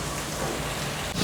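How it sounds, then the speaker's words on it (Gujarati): Heavy rain falling in Surat, a dense, steady hiss of close, loud downpour that runs through the whole brief moment. "હજી ચાલુ જ છે વરસાદ"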